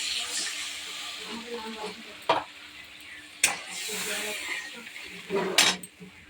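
Water poured into a fried spice paste in a hot pan, loud sizzling and hissing bursts with sharp clanks of a utensil against the pot, close by in a home kitchen.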